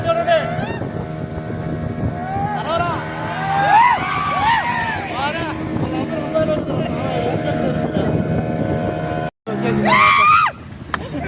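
A motorboat approaching across the water in Pondicherry near a fishing harbour, its engine a steady hum under wind buffeting and lively voices shouting and talking, with a brief dropout near the end.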